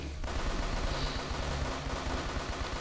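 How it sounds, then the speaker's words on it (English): Machine gun firing in the shooter game INCISION, a fast string of punchy shots with heavy low thumps, loud and continuous after a brief quiet start. "We got the machine gun here."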